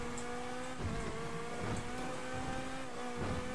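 A car engine in GTA 5 revs with a steady droning tone, its pitch rising and dipping slightly, set under a busy layer of game noise.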